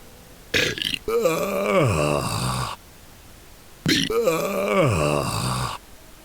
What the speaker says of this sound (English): I can burp the alphabet.